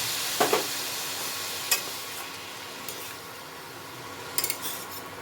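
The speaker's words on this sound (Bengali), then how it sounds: "মশলার সাথে থোড়টাকে একটু কষিয়ে নিই।" Banana stem sizzles as it is stir-fried with spices in a pan, a steady soft frying hiss broken by a few sharp scrapes and clinks of a spatula against the metal.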